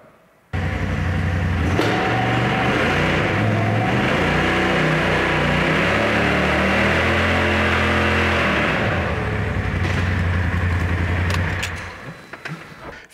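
A motorcycle engine revs hard with the brake held and the wheels kept from turning while the drive belt is engaged in high, a loud sustained roar that climbs and holds, then eases off and drops away at the end.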